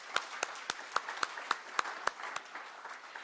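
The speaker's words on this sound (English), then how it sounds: "A round of applause, please." A small audience at a Canadian energy gathering celebrating Trans Mountain claps in sparse, evenly spaced strokes, a handful of sharp hand claps repeating steadily at moderate distance and fairly low volume.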